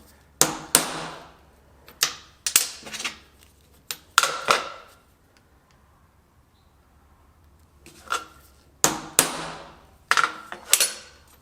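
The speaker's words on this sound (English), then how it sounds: "Then I'm going to center punch that." Sharp metallic taps come in quick clusters of two or three, pausing in the middle before resuming, close and crisp, a center punch struck with a hammer into aluminum.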